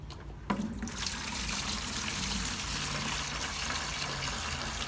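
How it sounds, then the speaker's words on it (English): Freshly mixed reef salt water, made from RODI water and Reef Crystals salt, pours in a steady, continuous trickling splash for a reef tank water change. It starts abruptly and runs close and constant, with no talk. "RODI water mixed with reef crystal salt. This is newly mixed salt water."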